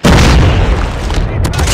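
Semtex grenade blast in Call of Duty Mobile, a loud close boom that hits at once and rumbles on with crackling debris, a short later burst near the end, and battle chatter faintly mixed in.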